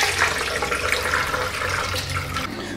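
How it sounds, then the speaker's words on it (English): Cooking water pours out of boiled elephant foot yam through a strainer, a steady broadband rush of splashing liquid lasting the whole stretch, close and fairly loud, with no talking. "just strain the water out of this elephant's foot yam"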